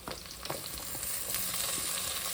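Potatoes, tomato and eggplant fry in a pan with a steady, close sizzle and crackle, and occasional stirring scrapes, with no talk.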